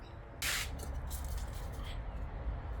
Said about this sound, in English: silicone spray. See, I've had this for a while, and all you do is squirt it on everything